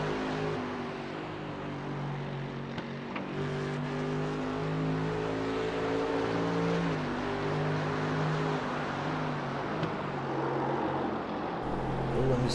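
A GT3 race car engine roars from onboard at Canadian Tire Motorsport Park, a steady loud drone with pitch rising and falling through gear changes.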